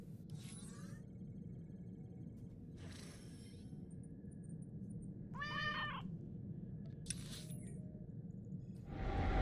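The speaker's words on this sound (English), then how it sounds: "Oh, it's the meow." A cat meows four or five times at spaced intervals over a steady low background hum, with the cries clear and fairly close.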